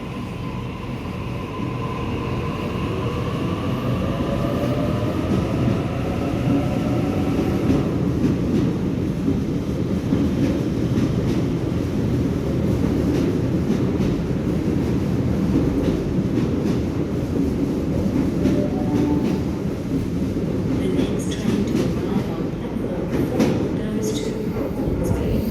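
Sydney Waratah Series 1 electric train A22 at a station, a loud steady rumble with motor hum and faint clatter that carries through the whole clip, with some brief squeal.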